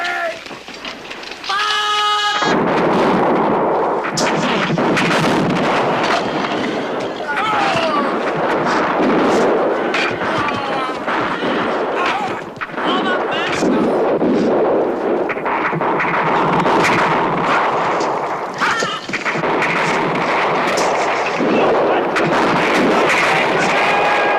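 Dense battle din from a 1980s George Washington miniseries, with heavy musket and cannon fire roaring almost continuously at loud level, shouted voices mixed in throughout.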